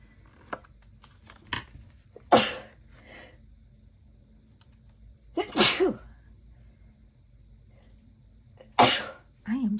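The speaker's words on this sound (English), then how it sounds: "I had a sneeze." Three loud, abrupt sneezes close by, spread several seconds apart, with soft clicks and breathing in a quiet indoor room between them.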